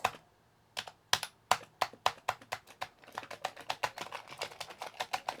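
Keys clack on a Commodore 64 keyboard with some keys not working, first a few separate presses after a pause, then a quick irregular run of close, crisp taps.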